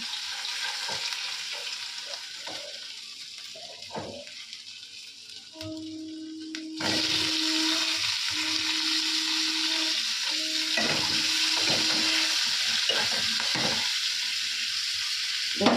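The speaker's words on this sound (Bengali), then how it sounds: "তেলের মধ্যে আমি সাদা জিরে আদা তেজপাতা দিয়েছি" Cumin, ginger and bay leaf frying in hot oil give a steady, close sizzle, with stirring scrapes and a few clinks breaking through, and the sizzle gets louder about halfway through.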